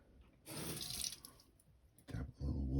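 Water from a tap runs into a sink for a moment while fake blood is mixed for makeup effects, a close, soft splashing flow in two short bursts.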